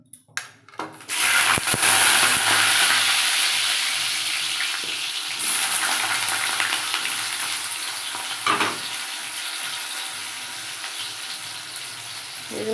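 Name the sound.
potatoes frying in hot oil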